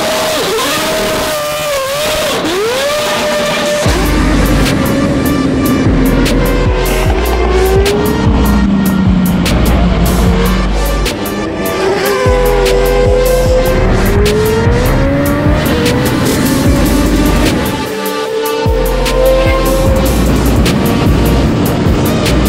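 A Formula 1 race car drives at speed, its loud engine rising and falling through gear changes and revs, with tire squeal over a continuous roar.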